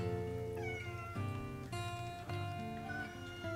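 A cat meows repeatedly to be let in from a snowy porch, its calls close and clear, with a steady musical background underneath.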